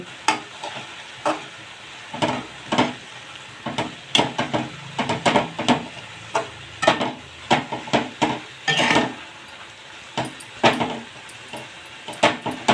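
A spoon scrapes and knocks repeatedly against a pan while fenugreek greens with crushed peanuts and garlic are stirred, with sharp irregular clatters over a soft background sizzle.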